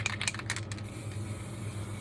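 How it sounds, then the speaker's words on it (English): Velvet spray from a canister is misted onto raspberry, lemon and Orelys chocolate desserts: a few quick, close hissing spurts, then a softer, steady hiss. "I'm just going to spray them a bit with a velvet spray."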